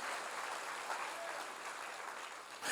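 A church congregation's applause comes as a dense, continuous wash of clapping, quiet and somewhat distant, holding steady for a few seconds.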